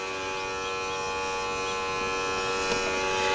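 A Mr Cartool T110 leak detector smoke machine runs with a steady, close electric buzz and hum that holds constant throughout, with no talking.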